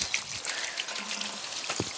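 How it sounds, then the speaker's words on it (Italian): Garden soil laid over a sheet is gently watered with a watering can fitted with a rose, a soft steady trickle and patter of light water with a few brief splashes, faint and close, no talking. "Si può bagnare anche con una rosetta, non diamo molta acqua"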